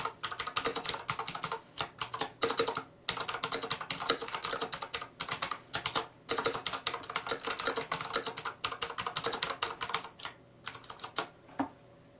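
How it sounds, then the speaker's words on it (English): Rapid clacky keystrokes on a mechanical keyboard come in bursts with brief pauses, close and crisp, with no speech. "So let's try and type something"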